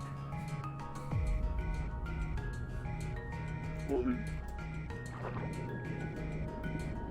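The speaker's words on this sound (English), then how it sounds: "Here is a bag of frozen vegetables that I put in the boiling water." Frozen vegetables tipped from a bag into a pot of boiling water: one sudden splash and burst of bubbling, then continued simmering beneath steady background music.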